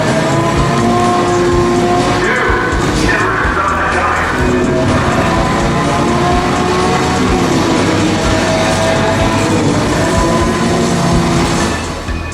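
Racing car engine droning continuously in a mobile racing video game, loud and steady with rising and falling revs throughout, no talk over it.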